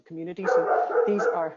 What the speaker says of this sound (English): I apologize, that's my dog.